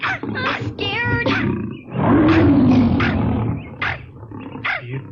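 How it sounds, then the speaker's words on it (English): A lion's low, drawn-out roar from the 1982 Wizard of Oz film rises for about a second in the middle, set between other cartoonish vocal sounds and short bursts. "It sounds like a lion."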